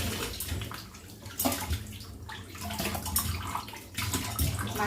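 Fish are washed by hand under running water, giving a continuous close splashing and gushing sound with uneven bursts as the pieces are moved and rinsed.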